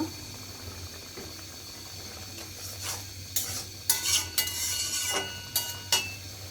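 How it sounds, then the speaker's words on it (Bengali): Spice paste sautés with a soft sizzle in a pan for papaya curry while a spoon stirs and scrapes against the metal in short, uneven bursts that grow busier toward the end, close and without talk. "এবার হচ্ছে মশলাটা আমি কষিয়ে নেব"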